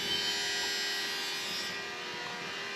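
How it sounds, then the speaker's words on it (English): Fuel injector pump on a Bobcat T66 skid steer running after the glow plugs were lit, a steady, even electric whine and hum that holds continuously without talk. "that's the fuel pump or injector pump that was running"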